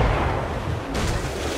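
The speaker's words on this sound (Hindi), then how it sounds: "देखा गाइस क्या तोप मारा" Ship cannon fire in the pirate video game Assassin's Creed Black Flag during a naval battle: a heavy booming blast with rumbling low end, followed by a second sharp report, loud and without talk.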